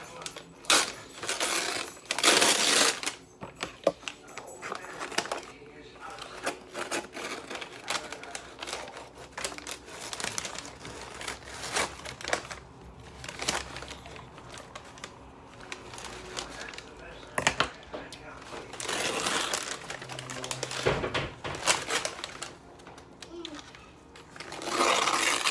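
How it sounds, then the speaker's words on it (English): Foil crinkles and rustles as cooked St. Louis style ribs are unwrapped after cooking, with bursts of crumpling noise, clicks and handling sounds at close range, and someone speaking in between. "We're gonna unwrap them and throw them back on the smoker."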